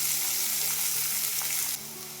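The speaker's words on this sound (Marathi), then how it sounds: "लसूण थोडा परतून घेऊया" Crushed garlic with cumin seeds sautés in hot oil in a pan for a fenugreek-leaf dish, giving a steady, close sizzle that drops slightly quieter near the end, with no talking.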